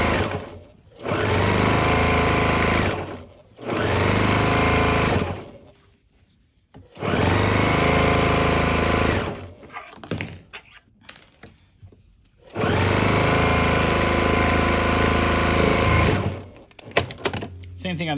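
Sewing machine stitching closed a quilted casserole carrier, running in three long steady bursts of fast whirring stitches with brief pauses between, close and loud, followed by a few short stop-start runs; a voice talks at times.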